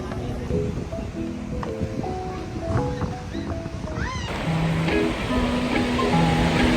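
Sea waves wash and roar continuously at a windy beach, a broad steady surf noise with gusty wind, while people talk and laugh nearby over it.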